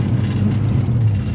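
A 1969 Ford Mustang Mach 1 pulling in first gear, its engine a steady, heavy low drone that holds loud and close for a brief moment with no voices over it.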